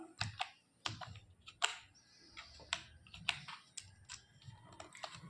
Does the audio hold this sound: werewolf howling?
no